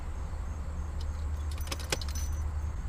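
Keys jangle and click in the ignition as a 2016 Subaru WRX is switched off, a few light metallic rattles over a steady low idle hum inside the car.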